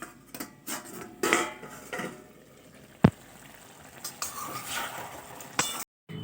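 A lid clanks onto a cooking pot of simmering Kadaknath chicken curry on a gas stove, one sharp metallic knock standing out among softer pot, utensil and bubbling sounds in a quiet kitchen.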